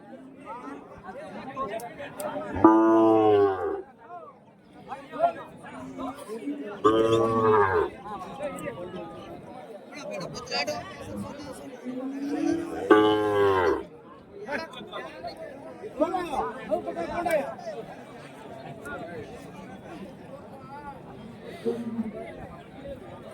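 Calves at a Friday livestock market in Kundarapalli, Krishnagiri district, let out three loud, drawn-out moos spaced a few seconds apart, close by, over steady talking and crowd chatter.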